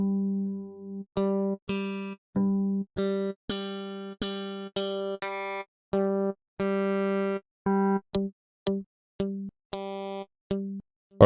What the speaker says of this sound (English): All right, let's go with the acoustic harmonics here.